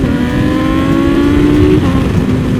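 A BMW M1000RR inline-four motorcycle with a full carbon build, its exhaust holding a steady, smooth roar close by, with no voices over it.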